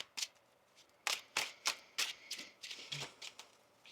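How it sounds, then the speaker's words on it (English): Tarot cards are shuffled close up in a series of crisp riffling bursts, irregularly spaced, with quiet pauses between. "Let's get one more shuffle here."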